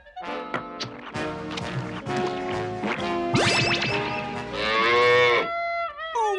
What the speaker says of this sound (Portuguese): Uma vaca!